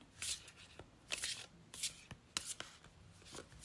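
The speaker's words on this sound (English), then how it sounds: "Okay, now on to our next tarot deck. And again, shuffle with intention." Tarot deck being shuffled by hand in quick bursts, crisp riffling card flutters separated by short pauses, close and fairly quiet with no talking.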